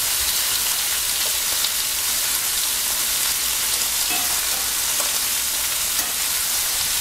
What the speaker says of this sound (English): You smell the powder, the chili powder right away once it hits that flame.